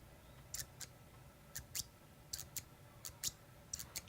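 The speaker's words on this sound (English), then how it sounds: "Let's check the click." Peña Knives X-Series Clicker full titanium pen being clicked, about a dozen crisp, sharp, close clicks in pairs at an uneven rhythm, quiet against a faint background.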